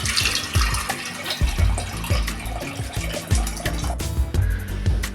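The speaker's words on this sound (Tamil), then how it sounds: "ஸ்டவ்வில் ஒரு குக்கர் போட்டு மாங்காய் வேகிறதுக்கு தேவையான தண்ணி ஊற்றிக்கலாம்" Water pours steadily into a metal pressure cooker on a stove, a continuous splashing fill with hollow resonance, close by and uninterrupted for several seconds.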